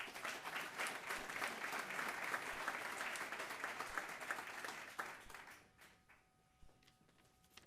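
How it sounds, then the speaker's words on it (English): A crowd at a labor agreement signing event for the South Brooklyn Marine Terminal wind project gives sustained applause, dense and even for about five seconds before tapering off into a quiet room. "join me in another round of applause to the Commissioner"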